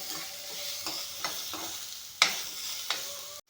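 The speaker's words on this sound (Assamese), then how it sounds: "এয়া চাওক, পিঁয়াজ জলকীয়াখিনি ভাজি ল'লোঁ।" Onions and green chillies sizzle in an oiled pan while being stirred, a soft steady frying hiss broken by several sharp spatula taps and scrapes, close up, ending in a brief abrupt cutoff.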